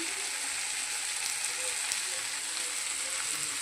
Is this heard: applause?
no